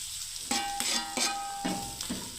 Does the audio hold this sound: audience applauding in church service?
no